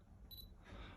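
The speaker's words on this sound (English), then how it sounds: "it'll beep when it's focused" Camera autofocus confirmation beep, a short pair of high electronic tones heard once, close and fairly quiet over faint room noise.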